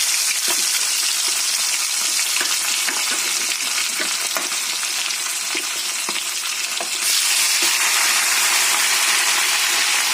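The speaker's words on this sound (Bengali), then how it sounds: "এটা এখন ভাজা বসিয়ে দিচ্ছি এরকম গোটা গোটাই ভাজা হবে" Whole fish fry in hot oil in a pan, giving a loud, continuous sizzle with occasional crackles and stirring scrapes that grow slightly louder toward the end, with no talking.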